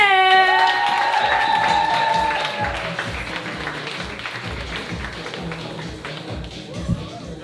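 Comedy club audience applauding and cheering for stand-up comedian Freddy Jan at his introduction, a dense wash of clapping over music that settles into steady sustained applause.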